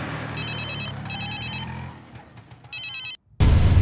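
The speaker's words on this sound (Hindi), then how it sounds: "सुनो, तुम्हारा फोन बज रहा है।" A mobile phone rings in an electronic ringtone, two bursts of repeated high tones and a third near the end, loud over a steady background hum before a sudden heavy noise.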